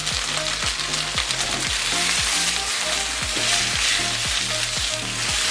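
Spicy garlic chicken stir-fry with vegetables, sauce, tomato paste and ketchup being tossed in a pan over medium flame: a loud, steady sizzle fills the whole stretch, with a rhythmic low thumping pattern underneath.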